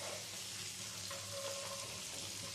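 Chopped drumsticks and tomato pieces frying in a pan, a steady close sizzle with soft stirring scrapes underneath.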